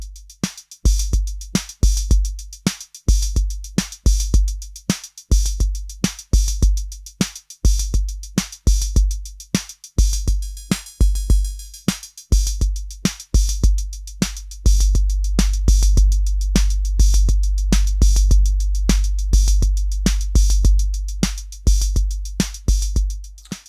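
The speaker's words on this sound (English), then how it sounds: "this is the mighty DR-110. It's another analog drum machine." A DR-110 analog drum machine runs through a Vertice analog filterbank, playing a loud, steady pattern of punchy kicks and crisp hi-hat ticks; from about midway a boomy, sustained bass drum fills out the low end. No voices.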